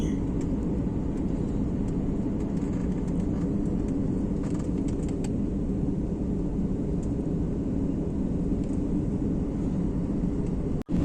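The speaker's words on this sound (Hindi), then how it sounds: "और ये प्लेन अब लैंड करने जा रहा है" Steady roar of airplane cabin noise as the aircraft descends to land in Ladakh, a constant loud broadband drone filling the whole clip with a brief dip and thump near the end.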